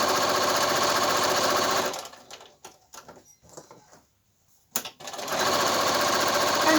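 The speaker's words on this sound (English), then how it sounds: "First lot of stitching done." A sewing machine stitches quilt fabric in a loud, steady mechanical whir, stops for a few seconds of quiet handling noises, then starts stitching again at the same fast, even pace.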